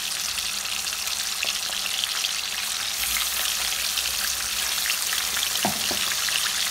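Fish pieces frying in oil for fish korma, a steady crackling sizzle that fills the whole stretch, close and even, with a couple of brief utensil knocks near the end.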